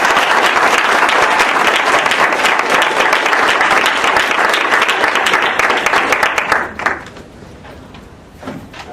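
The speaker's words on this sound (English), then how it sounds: "a warm round of applause to welcome him to the stage" A debate audience in a university hall applauds to welcome a speaker to the stage, loud dense clapping that holds steady, then thins out and fades into a few scattered claps.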